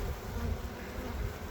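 Honeybees from a rescued swarm buzz close around fingers, a dense, steady insect drone that holds without a break for the whole moment.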